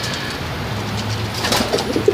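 Pet pigeons or doves in a home aviary coo softly and repeatedly in low, rolling calls, with some light rustling of the birds nearby and no talking.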